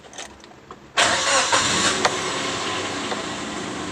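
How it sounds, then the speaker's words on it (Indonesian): A Suzuki Karimun Wagon R engine with severe vibration cranks and catches about a second in, then settles into a steady idle rumble. "Oke, kita hidupkan lagi ya mesinnya ya."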